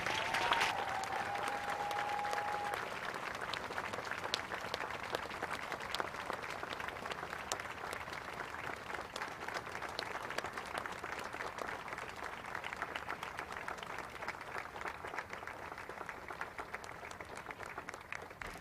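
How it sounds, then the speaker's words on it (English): A crowd applauds military Olympic and Paralympic athletes and coaches at an honors ceremony, sustained dense clapping filling the room evenly for nearly twenty seconds with no break. "please join me in giving another round of applause to these amazing athletes and coaches"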